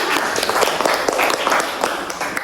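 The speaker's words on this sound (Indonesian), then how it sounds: "tepuk tangan dulu sama kita semua" A classroom group claps together in a dense, steady burst of applause, close and loud, without talk over it.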